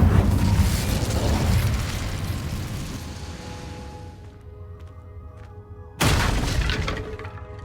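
An Incendio fire spell blasts out in Hogwarts Legacy, a loud roaring burst that fades over several seconds into quiet game ambience, then a second abrupt fiery rush erupts and holds steady.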